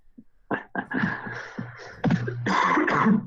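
Several rough coughs and throat-clearing bursts from one nearby person, coming in uneven clusters and growing heavier toward the end.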